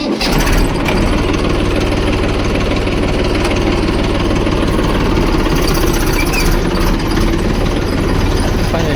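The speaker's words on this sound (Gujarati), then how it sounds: "ટ્રેક્ટર આપણે ચાલુ કરી નાખ્યા છે" A tractor engine runs steadily after starting on a village street in the morning, a loud, continuous low diesel rumble with a rapid knocking pulse that holds throughout with no talk.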